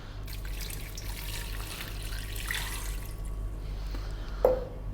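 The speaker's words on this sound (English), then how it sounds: "Pressure cooker here. We're simply going to add some water to that." Water is poured into a pressure cooker in a steady, soft trickle over a low background hum, ending with a small metallic clink.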